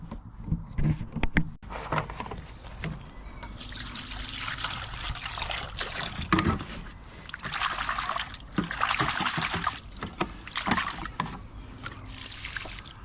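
Foraged wild plants are rinsed in a bowl of water beside a canoe on the River Severn, giving a steady trickling, splashing wash of water that rises and falls in bursts close by.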